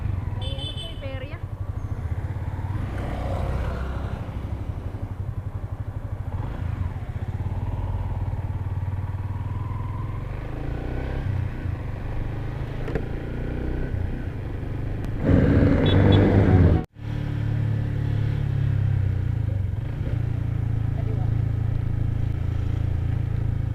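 A motorcycle taxi's engine rumbles steadily as it rides through heavy traffic near a riverbank, a constant close drone with passing vehicle noise, briefly louder around the middle.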